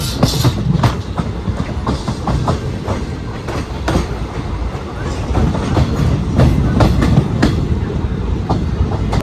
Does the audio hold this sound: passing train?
yes